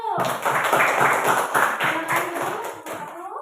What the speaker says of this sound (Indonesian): coba berikan tepuk tangan untuk kelompok 1.